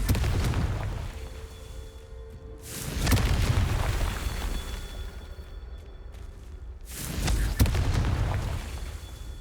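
Confringo fire spells in Hogwarts Legacy burst as two big booming explosions, each rising to a roaring rumble that fades away, over a low steady game background.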